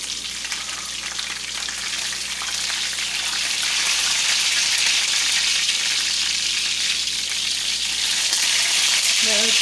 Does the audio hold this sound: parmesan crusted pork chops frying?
yes